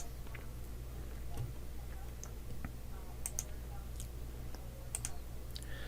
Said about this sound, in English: click on the menu, and we'll switch to Linux containers